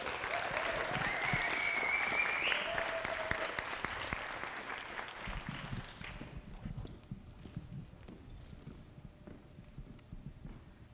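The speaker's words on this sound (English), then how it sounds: "Round of applause." An audience at a creative leadership workshop applauds the artists, a fairly quiet wash of clapping that tapers into sparse scattered claps and light room noise.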